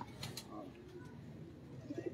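Pigeons coo softly in a loft, a few faint low coos near the end over quiet background and distant voices.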